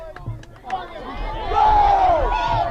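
Spectators at a girls' varsity soccer championship match cheer and shout together, a loud roaring crowd that swells in the second half with rising yells.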